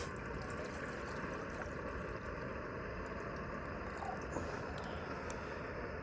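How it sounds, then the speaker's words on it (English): Water is poured outdoors to make a hot drink, a continuous, fairly quiet liquid fill with a steady rush and no talk over it. "Add some water."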